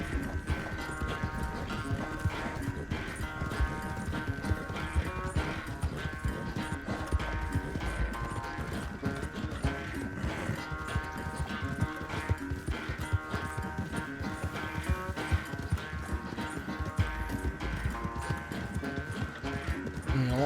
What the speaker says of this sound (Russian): Лошадь скаковая.